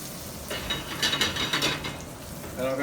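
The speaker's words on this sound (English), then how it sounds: "I'm going to fry off my soaked Meuniere, shallow fry my fish fillets" Butter cubes melting with oil in a pan before shallow frying plaice fillets for meunière, a faint close sizzle with scattered scraping and clattering stirs.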